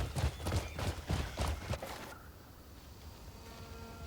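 A horse's hooves clip-clop in the video game Crimson Desert, about six or seven close, even steps over two seconds, then the hoofbeats stop and only quiet ambience remains.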